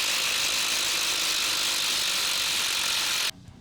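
A HART or Ryobi impact driver backs a screw out of wood with a dense, steady whirring rattle that cuts off abruptly near the end, leaving quiet.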